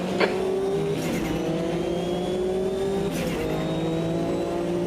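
A Group C race car accelerates at Suzuka in Automobilista 2, its engine note climbing steadily through the gears with a shift near the start and another midway, loud and close with no talking.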